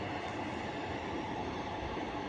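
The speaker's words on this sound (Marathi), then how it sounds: "पाहिलं किती मोठी ट्रेन आहे" A long train rolling past at a railway station, a continuous loud rumble and wheel roar that holds steady throughout.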